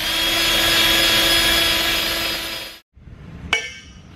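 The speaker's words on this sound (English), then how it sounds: "best way to do that, to remove this paint, is with a wire wheel." A wire wheel strips paint from a motorcycle exhaust pipe with a loud, steady high-pitched whine that runs for nearly three seconds, cuts out, then gives a brief sharp burst of grinding.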